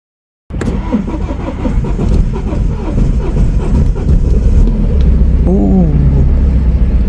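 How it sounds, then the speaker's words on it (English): A BMW 1 Series car engine starts after about half a second of silence, then runs steadily and loudly up close, with a low, rising rumble building near the end as it settles into running. "I was confident to start the car."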